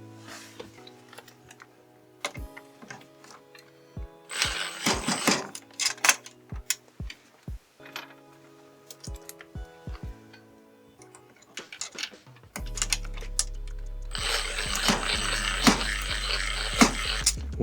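Screwdriver driving a screw into wood for a DIY lattice door and gate, with sharp isolated clicks and rattling taps that come and go, then a louder, denser grinding stretch near the end, close by.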